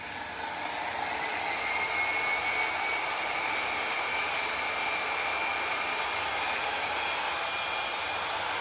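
A 6-inch Bauer dual action polisher runs at low speed, giving a steady, continuous whirring hum with a faint whine, close by and alone without any voices.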